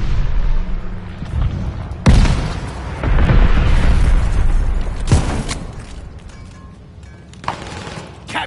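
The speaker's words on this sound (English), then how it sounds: "Grenade!" A grenade detonates in a video game, a loud close boom followed by a rolling rumble and debris, with further heavy explosions and gunfire bursts echoing across a battlefield.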